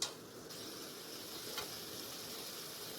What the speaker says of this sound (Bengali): তারপরে কুচনো আলুটাও দিয়ে দেব, দিয়ে আরও একবার নাড়াচাড়া করে নেব